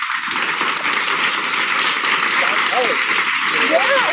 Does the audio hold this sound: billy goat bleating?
no